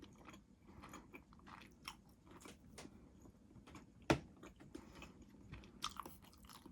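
Close, soft chewing and biting while eating a Jamaican meal of chicken back, ackee and pumpkin dumpling with carrot, with irregular wet mouth sounds and a couple of sharper crunchy bites, no talk.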